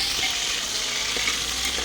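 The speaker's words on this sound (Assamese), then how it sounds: "আলুখিনি দি দিলোঁ, দি পেলাই আকৌ অকণমান ভাজিম" Potatoes sizzle with onions in hot oil in a pan for vegetable khichuri, a dense, steady, loud frying hiss heard up close without speech.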